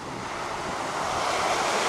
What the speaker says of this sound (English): If you want complete privacy, the crashing waves from the ocean,